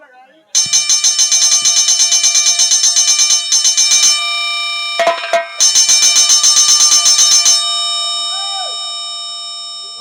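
An electric doorbell rings loudly in long, insistent bursts of rapid metallic clanging, briefly pausing before ringing again, then fading.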